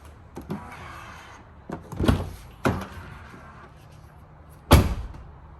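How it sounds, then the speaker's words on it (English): Tesla Model Y soft-closing doors shut, a series of several thuds and motorized latching pulls spaced a second or so apart, fairly close, with quiet whirring between them. "So not only that you get soft closing,"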